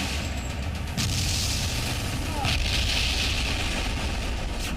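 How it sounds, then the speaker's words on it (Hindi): Missiles launch one after another in news footage of strikes on Iranian cities, heard as a continuous roaring, rumbling blast with louder bursts around one and two and a half seconds, loud and sustained throughout. "इसी तरह से एक एक कर दनादन मिसाइलें चलती गईं"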